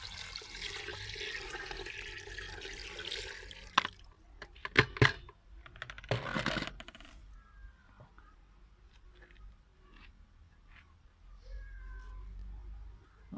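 Water poured into a pot of rice for onion pulao, a sustained gushing splash at first, then clanks and a few quieter knocks and trickles as it settles.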